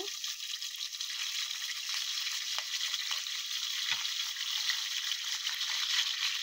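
Green chillies and curry leaves sizzling in hot oil in a kadai, a steady close crackling fry with small pops and occasional stirring clinks, no voices.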